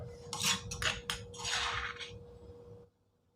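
A utensil scoops coarsely ground ingredients for a braised pork belly dish out of a dish. Several quick metallic clinks and scrapes come close together, then the sound stops abruptly.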